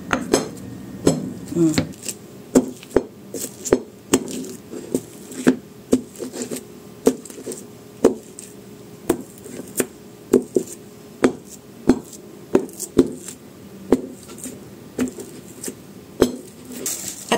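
A mortar pounds mashed banana nilupak with cheese, sharp rhythmic knocks repeating about once a second over a low background hum, close and steady, with no voice over the beating.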